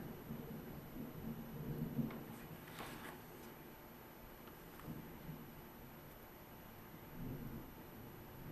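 Distant thunder from a storm outside rumbles low and faint, with soft rolling swells and a steady hiss of background noise, heard from indoors and far off.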